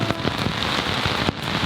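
Heavy rain drums steadily on the roof of a campervan, a dense, continuous patter with sharper drop hits heard up close.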